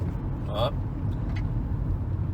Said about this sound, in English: The car has a nice amount of power. It drives super smooth.